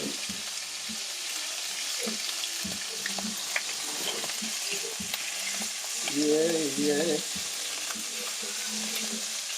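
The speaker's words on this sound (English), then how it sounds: "That thing's hot sizzle right now." Constant hiss and crackle of andouille sausage sizzling in a hot pan, loud and close, with a brief voice murmuring partway through.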